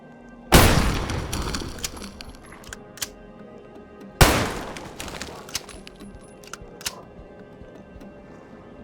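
Two heavy, booming shots ring out from a favourite gun in the video game Falsepine, spaced about four seconds apart, each with a long fading tail. Lighter thuds and clicks fall in between.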